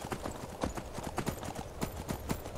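Horse hooves clip-clop in a steady rhythm as a mount trots along in the video game Skyrim, close and fairly loud, with no talking.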